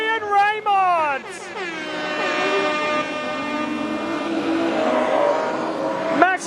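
Modified sedan race cars at a speedway final, engines droning at a distance with a rising and falling pitch as they come through the last turns, a loud wail at the start and continuous track noise throughout.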